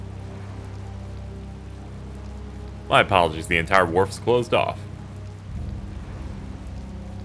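Steady rain falls in the video game Tales of Vesperia, a soft continuous hiss that runs throughout while a voice speaks briefly in the middle.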